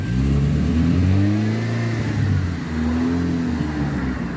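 A 2007 Nissan Almera N16 with a QG15DE engine fires up and revs, the engine note rising, falling and rising again, close and steady with no one talking.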